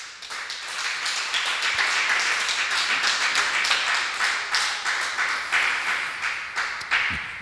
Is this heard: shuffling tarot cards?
no